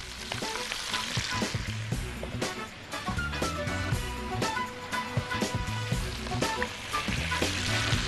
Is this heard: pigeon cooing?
no